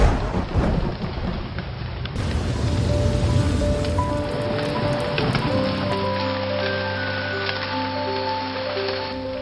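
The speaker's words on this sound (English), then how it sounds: "And suddenly it rains." Heavy rain pours steadily and loudly onto surfaces with a dense hiss, while thunder rumbles low underneath throughout.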